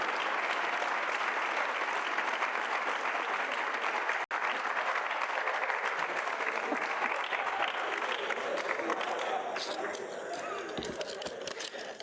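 An audience at a school awards ceremony gives sustained applause for student robot builders, a broad even clatter of many hands that briefly cuts out, then thins slightly toward the end.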